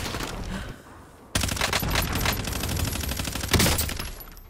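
Dense automatic gunfire rattles loudly in a Call of Duty Warzone match, first as a quieter burst and then, after a sharp jump in level, as sustained close rapid fire with layered shots.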